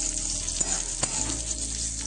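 Onions frying in oil in a kadai give a steady close sizzle, with a few faint clinks of stirring and no talk.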